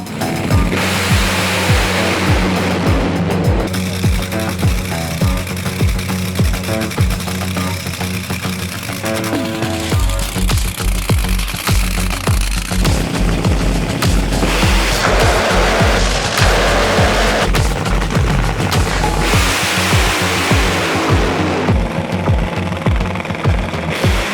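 NHRA drag race cars roaring side by side down the strip, a loud continuous engine blast with surging, rattling peaks and shifts in pitch, close and sustained throughout.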